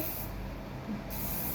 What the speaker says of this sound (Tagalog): Spray ba yan?